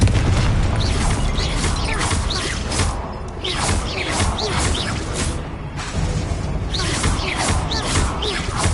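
Confringo fire-blast spell cast repeatedly in Hogwarts Legacy combat: dense, loud booming bursts and whooshing crashes that follow one another steadily over a continuous roar of game action.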